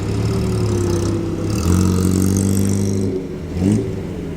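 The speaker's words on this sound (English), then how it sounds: "A lovely, very distinctive A-Series Morris Minor Burble there." A classic Morris Minor with an A-Series engine burbles at a car meet, a close, low, lumpy idle that rises in two short blips of revs before settling back.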